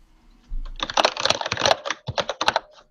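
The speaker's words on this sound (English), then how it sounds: "we got a noisy keyboard there. Oh, sorry. That's me. The mechanical keyboard" A mechanical computer keyboard clatters in rapid bursts of crisp key clicks, close and loud, with brief pauses between flurries of typing.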